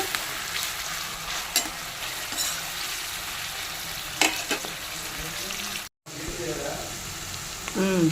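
Sliced onions frying in oil in a pan for an Andhra-style spicy chicken fry, a constant close sizzle with occasional scraping stirs and a brief cut partway through.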